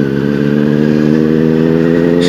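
A Benelli 600i motorcycle fitted with a loud Ixil aftermarket exhaust revs steadily and close by, a continuous deep throaty engine note with strong harmonics holding throughout.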